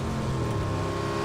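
A motorcycle engine in the PUBG battle royale game drones in a steady, close, continuous hum that holds an even pitch through the short moment, with no other sound over it.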